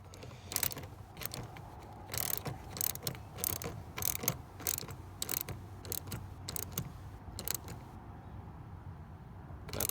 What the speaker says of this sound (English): 8mm ratchet.